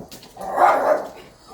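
A single close, loud dog bark with a whimpering edge, heard indoors at a home, alone without talk.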